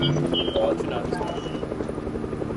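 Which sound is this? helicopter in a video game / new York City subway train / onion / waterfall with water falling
helicopter in a video game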